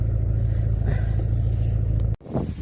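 A car drives along with a steady low engine drone and road rumble heard from inside the cabin, then a sudden thump and a brief dropout near the end before the engine hum returns.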